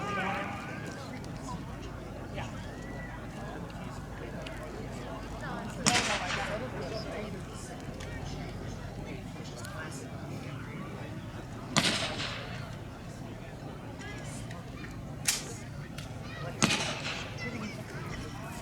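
WW2-era artillery pieces firing high-explosive rounds at an outdoor reenactment weekend: four sharp booms spaced several seconds apart, each short and crisp, over a steady murmur of background crowd noise.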